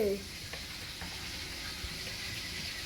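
Food fries in a pan with a constant, moderately loud hiss, with a few faint clicks and a brief knock near the start.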